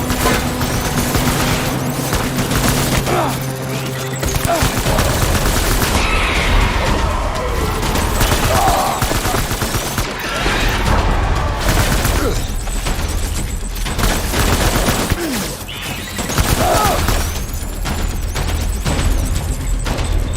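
Gunfire during a firefight in the video game Death Stranding: dense bursts and booming impacts layered over a loud, continuous battle din, with mechanical clatter and no clear gaps.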